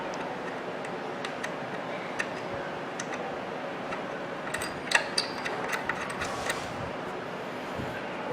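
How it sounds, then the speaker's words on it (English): Pliers turn a drive stud and coupling on an Osterizer 10-speed blender, making faint, irregular metallic ticks and clicks that grow a little busier midway through a quiet stretch. "you're holding this end with the pliers and then turning with the hand inside"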